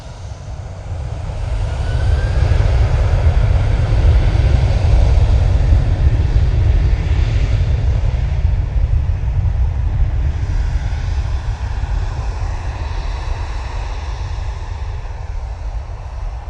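A Ryanair jet airliner arriving at Manchester Airport gives a continuous low engine rumble that swells to a loud roar, then holds steady as it passes at a distance, with no talk.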